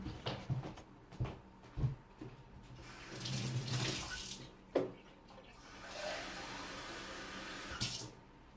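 Tap water runs steadily into a sink while Thai papaya salad is made in the Korat style, broken by a few clunks and knocks of kitchenware before a louder, continuous flow near the end.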